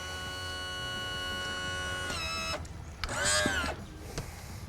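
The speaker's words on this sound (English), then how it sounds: "I can trim it back up to where it needs to be to safely travel down the road" On a Lund boat, an outboard motor's electric power trim hums steadily as the motor is raised, then cuts off, followed by a brief whining motor burst and a click; close and moderately quiet.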